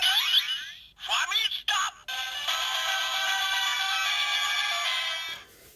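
Kamen Rider Ex-Aid DX Famista Gashat toy, a baseball-themed button toy, sounds off with bright electronic chirps and jingles, then a long, steady, ringing electronic tone, close and loud.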